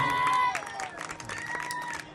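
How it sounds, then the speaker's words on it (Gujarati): A live audience at a Santvani Dayaro folk music event claps to welcome a musician, scattered applause that starts fuller and thins out over a couple of seconds, with crowd murmur and a voice over the public address. "નિખિલભાઈ ઉસ્તાદ એમને પણ જોરદાર તાળીના ગરડથી વધાવો"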